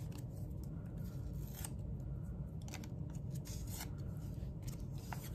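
Paper layer being peeled back from a junk-journal scrap, a steady close rasping tear that runs alone for several seconds with soft crinkly bursts.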